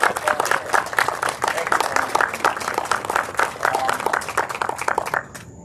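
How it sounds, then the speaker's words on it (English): An audience at a community college agribusiness expansion ceremony gives a sustained round of applause, with many hands clapping steadily and fairly close, fading out at the end. "I still want to give her another round of applause."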